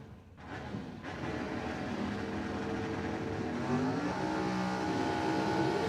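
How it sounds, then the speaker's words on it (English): Drag race cars launching at Cordova Dragway during a Bracket Old Pro nationals event: loud, sustained engine roar with rising revs, close and continuous throughout, no talk. "Many of these guys will show you the bottom end of their race car as they launch them."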